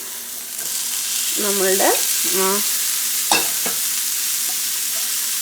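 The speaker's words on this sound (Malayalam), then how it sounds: "ജസ്റ്റ് ഒന്ന് ഇഞ്ചി വഴറ്റി കൊടുക്കുക" Ginger being sautéed in a pan with green chillies going in, giving a steady close sizzle of frying with stirring scrapes and a couple of sharp utensil knocks, under a brief bit of talk.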